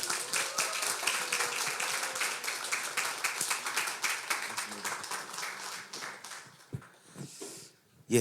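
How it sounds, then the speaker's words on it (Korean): An audience in a church seminar room applauds to welcome a speaker, a dense wash of clapping that thins out and fades, followed by a few scattered claps and small noises. "우리 강사님 나오실 때 뜨거운 환영의 박수로."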